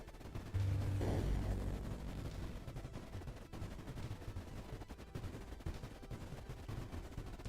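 Cannons firing at frigates in the video game Creeper World IXE: a low boom early on, then a continuous rattle of rapid shots and impacts, faint and busy throughout, with no talk.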